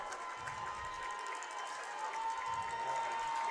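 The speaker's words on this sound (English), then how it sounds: "but they're cheering." Football fans cheering in a college stadium during a North Greenville versus Limestone game, a faint, distant roar of crowd noise with a steady tone running through it.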